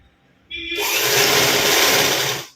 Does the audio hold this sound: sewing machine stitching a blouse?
yes